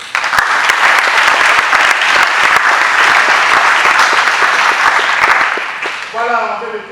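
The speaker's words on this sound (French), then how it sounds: "je vous en prie aussi les applaudissements de votre partie" Wedding guests applaud during a civil ceremony at a town hall: loud, sustained, crowd-wide clapping that fades near the end, when a voice begins speaking.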